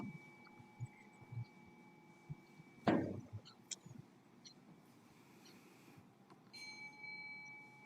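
Zen temple bell struck during a prostration ceremony, one clear ring that hangs and fades over quiet room ambience, with soft shuffles and small knocks around it.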